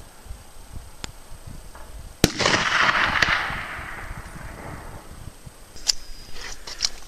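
Rifle fired from a bipod outdoors, a single sharp crack followed by a long rolling echo, with a few fainter clicks and taps before and after.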